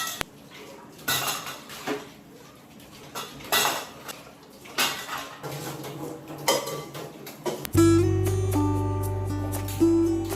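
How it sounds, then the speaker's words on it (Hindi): Dishes are washed in a home kitchen: pots, pans and cutlery clatter and clank in close, irregular knocks, then a tap runs steadily near the end. "उसके बाद बर्तन वॉश कर लूँगी।"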